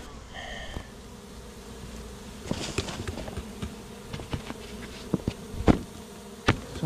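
A swarm of honeybees being moved from a shed wall into a box buzzes steadily and close, with scattered knocks and clunks of handling equipment punctuating the drone.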